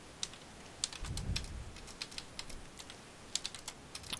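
Computer keyboard typing during a Minecraft game session, a string of sharp irregular key clicks, close and fairly quiet, with a brief low thump early on and no talking.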